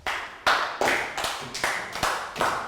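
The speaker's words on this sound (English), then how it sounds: "Round of applause for Latgal." A Year 3 maths class claps for a student in a handful of slow, evenly spaced group claps, roughly seven beats in unison, close and fairly loud with no talk.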